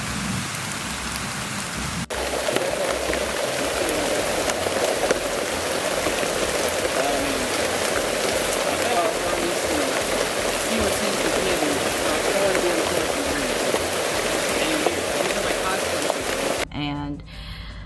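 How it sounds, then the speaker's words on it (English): Steady, dense rain pours down in a video game, a constant close hiss of drops hitting surfaces that lasts almost the whole stretch and then cuts off abruptly near the end. "Why is this raining here?"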